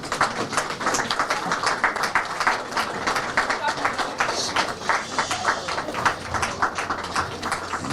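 A standing ovation at a celebration-of-life memorial service for an elder: dense, sustained clapping from a large crowd, steady and fairly loud for the whole stretch, with no pause.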